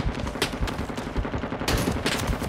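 Sustained suppressing gunfire rattles in the Vietnam War video game Rising Storm 2: Vietnam, rapid overlapping shots and bursts with a sharper volley near the end, loud and continuous.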